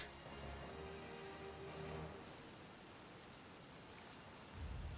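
Steady rain falls on a surface as a dense, even hiss throughout, with a low rumble swelling near the end and no voices.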